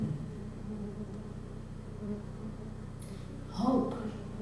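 Bees buzzing together in a mass, their wingbeats and vibrations raising the heat around them, form a steady low drone that swells briefly louder near the end.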